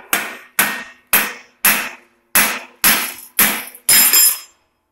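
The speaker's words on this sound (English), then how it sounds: "Use this sledgehammer." A sledgehammer pounds a shock part onto a motorcycle springer front end, landing eight hard, ringing metallic blows in a steady rhythm about half a second apart, close and loud with nothing else heard.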